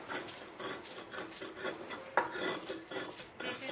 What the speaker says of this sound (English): This is the way that we use it for this grinder stone.